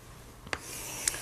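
Short chalk-like strokes on a board during a lecture, two brief faint scratches about half a second apart over quiet room tone, with no talking.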